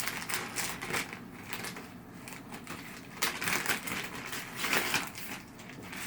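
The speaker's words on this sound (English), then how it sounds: "Scissors again." Crisp snipping and crinkling of packaging close up, in irregular bursts of cutting and rustling.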